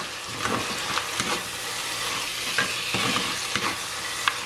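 Sri Lankan dry fish curry mixture sautéing in a pan, a steady close sizzle with scraping stirring strokes every second or so, loud and continuous with no talk.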